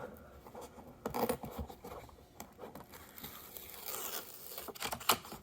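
Adhesive backing tape peeled from a Yeti Tundra 45 Aqua Marine cooler pad, a close, quiet crinkling and tearing rasp that comes in uneven bursts with brief pauses.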